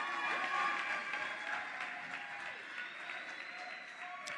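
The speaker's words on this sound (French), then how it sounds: "On applaudit pour lui." A crowd at an award ceremony applauds the winner of a best-performance prize: dense, steady applause that fills the whole stretch at moderate volume, with faint voices mixed in.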